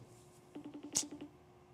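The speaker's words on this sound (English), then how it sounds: "We'll call a man about a dog, Jose. See if we get an answer" A phone dials out: a quick run of about eight evenly spaced tonal dialing beeps with a brief click in the middle, faint under a quiet room hum.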